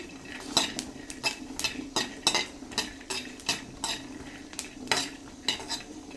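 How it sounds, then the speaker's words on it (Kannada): Green chilies and garlic dry-fried in a pan without oil, a spatula scraping and clinking against the metal in a quick irregular rhythm over a faint background hiss, close by, with no voices. "ಎರಡು ಸ್ವಲ್ಪ ಹಸಿ ವಾಸನೆ ಹೋಗೋ ತನಕ ಫ್ರೈ ಮಾಡ್ಕೊಬೇಕು"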